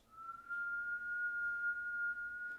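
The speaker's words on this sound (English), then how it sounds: "she's gonna whistle for us" A single steady whistled tone held almost unbroken for a couple of seconds, clear and fairly close, with no talking.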